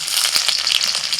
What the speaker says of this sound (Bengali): তেলের মধ্যে ফোড়নে দিচ্ছি 2টো শুকনো লঙ্কা, সাথে কালো জিরে, রসুন কুচি